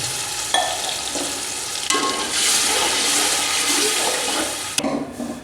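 A glass of water tipped into a pot of cooking masoor lentils with onion and tomato, a loud rushing pour and sizzle spread over a few seconds, close by and alone.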